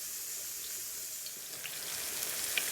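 Okra frying in hot grease, a steady, dense sizzle and bubble that grows slightly louder toward the end, with a few faint pops and no voices.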